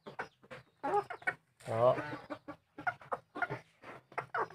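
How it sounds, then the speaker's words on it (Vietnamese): An F1 decoy rooster clucks in a run of short, close, repeated calls with one longer drawn-out call in the middle. A voice speaks briefly among the calls. "Đây là con gà mồi F1 của mình nhá."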